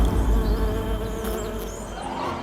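Bees buzz around a honeycomb in a cartoon, a loud, steady swarm drone close up that holds for the whole moment with a faint whine rising near the end.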